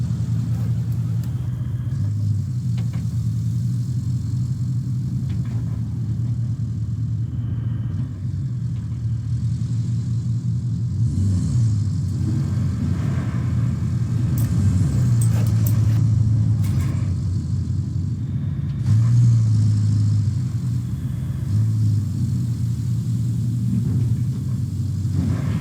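Heavy vehicle engine driving across a steel pipes facility map in RoadCraft, a steady low rumbling drone with gentle swells in revs, continuous and close throughout.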